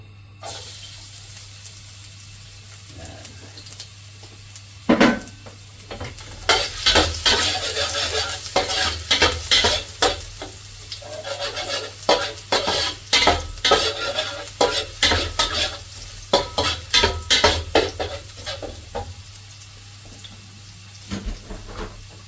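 Garlic frying in a pan for Filipino pork adobo: a low sizzle under repeated scraping and stirring strokes of a utensil, rhythmic and close, continuing for about twenty seconds.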